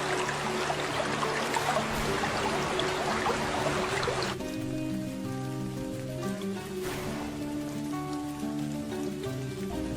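Steady rain pours down throughout in a Bengali cartoon scene of a flooded village river crossing by boat, a dense even hiss of drops with soft musical tones layered beneath in the second half.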